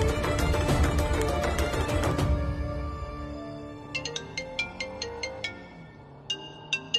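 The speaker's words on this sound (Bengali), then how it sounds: "আনন্দী, শানের ফোন এসছে, একটু ধরো তো, স্পিকারে দাও।" A mobile phone rings for an incoming call in a Bengali TV serial scene, a string of electronic tones rising out of loud music and then repeating alone as the music fades.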